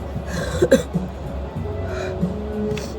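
A couple of short, rough coughs close to the mic, followed by quieter throaty sounds over a low background hum.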